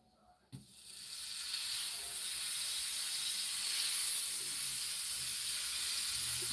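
A grilled cheese sandwich frying in butter in a pan, a sudden clatter followed by a loud, steady sizzle and hiss that swells and holds close up without talk.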